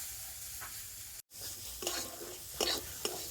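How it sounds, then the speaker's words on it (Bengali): Vegetables sizzle quietly in hot oil in a pan while a utensil stirs them, giving a few scraping strokes over a steady low frying hiss, with one brief dropout near the start. "তো দেখুন, সবজিগুলো একটু হালকা করে ভেজে নিয়েছি।"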